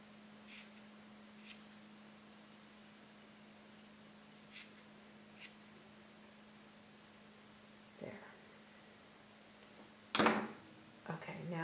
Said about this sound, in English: I'm going to round it out with the scissors a little bit.